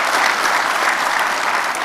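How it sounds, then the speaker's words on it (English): Loud, dense audience applause at an awards presentation during an annual dealer conference, a continuous wash of many hands clapping with no pauses. "A round of applause for him."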